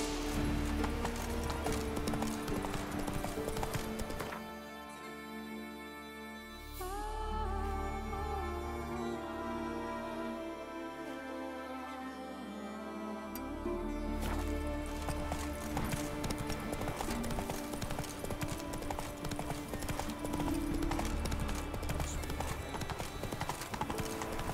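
A horse gallops in the PC video game The Witcher 3, its hoofbeats drumming loud and steady throughout, joined by game music and a brief quieter stretch midway.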